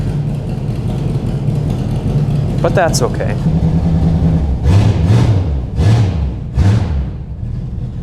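Rough, rumbling idle of a 1962 Mercury car engine with exhaust leaking from several spots, steady and close with a few sharp revs, while someone talks over it.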